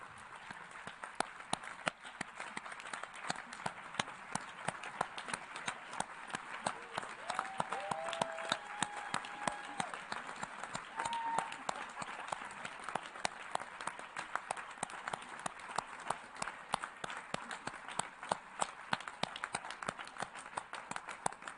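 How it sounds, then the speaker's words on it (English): An audience at a Generation Equality event gives sustained applause, dense rapid clapping from a large crowd continuing evenly for about twenty seconds, fairly loud and with no speech over it. "let us all here to stand and join in a round of applause"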